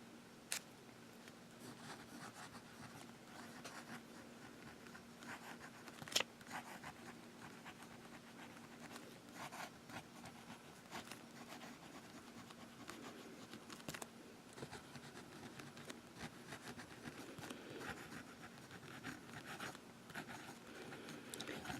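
Extra fine nib pen writing on paper, producing faint, close scratchy strokes that repeat in short irregular bursts over a quiet background hum.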